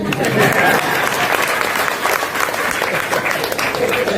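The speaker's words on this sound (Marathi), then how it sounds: "टाळी पण वाजवणं झाले." Audience clapping during a Marathi political speech on reservation sub-classification, a dense, loud burst of applause from a crowd sustained across the whole stretch.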